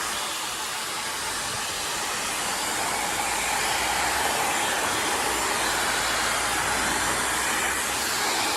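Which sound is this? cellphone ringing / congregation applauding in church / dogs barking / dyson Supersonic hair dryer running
dyson Supersonic hair dryer running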